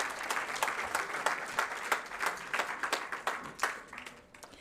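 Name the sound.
audience applause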